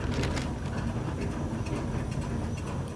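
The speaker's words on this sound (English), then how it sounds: "Yes, I hear the train." A train in the video game A Bumpy Ride rolls along with a steady mechanical rumble and faint rhythmic clatter, continuous and fairly close, without talk.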